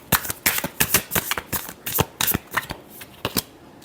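Tarot cards being shuffled up close, producing a quick run of crisp riffling flutters and taps in an uneven rhythm that lasts a few seconds.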